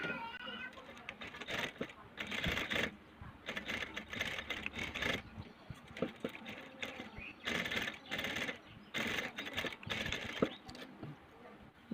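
A sewing machine stitches fabric for a simple cloth face mask in several short bursts separated by pauses, fairly quiet, with someone talking softly between runs.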